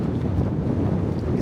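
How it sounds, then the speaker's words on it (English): Strong wind on Snowdon buffets the microphone in a steady, loud low roar, gusty and rumbling with no other sounds. "It's really windy though"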